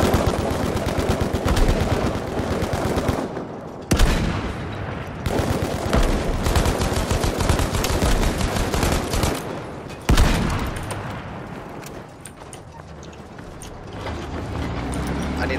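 Mobile artillery in the video game Battlefield V fires heavy booming blasts amid dense, continuous battle noise and rapid gunfire, loud and sustained with a few sudden impacts.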